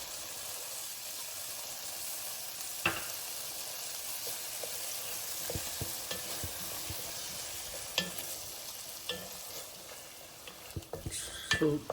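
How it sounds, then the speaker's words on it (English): Onion and tomato fry in a pan with a soft continuous sizzle, broken by occasional spoon scrapes and clinks against the metal that grow busier near the end; fairly quiet and without speech. "After frying 5 more minutes, I'm able to see the tomato get smashed and got mixed with onion properly."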